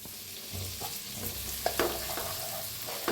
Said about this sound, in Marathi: जो उरलेला मसाला होता त्याला बी भाजून घेऊया.